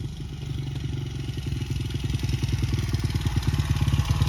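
A Honda CRF100F kids' dirt bike engine runs with a rapid, throbbing mid-pitched putter that grows slightly louder and more insistent as the throttle is opened, heard close up with no talking.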